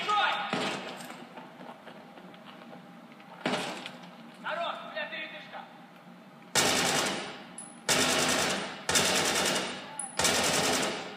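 Bursts of automatic gunfire in the Battlefield 3 Russian Mansion map, four loud, sharp volleys in the second half following quieter shots and game noise, with a player talking throughout.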